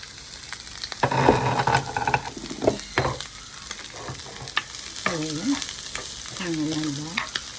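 Onions fry in hot oil in a pan for a Jaffna-style prawn curry, a loud burst of sizzling as they go in, then stirring scrapes and a steady crackling hiss that swells and settles, close up with no talking.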